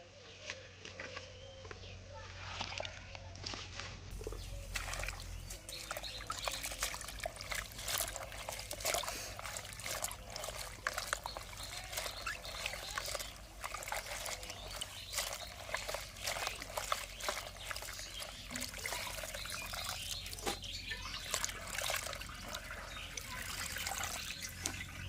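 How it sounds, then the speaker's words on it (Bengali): Water running and trickling steadily as pumpkin leaves are rinsed, a continuous close splashing flow with small irregular spikes of dripping and handling throughout. "শাকগুলো ধুয়ে নিচ্ছি।"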